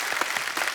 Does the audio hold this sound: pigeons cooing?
no